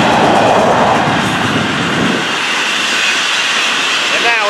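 FEC 101 freight train rolling south past the listener, a loud close roar of cars and wheels with rushing hiss and clatter, steady throughout and fading slightly toward the end.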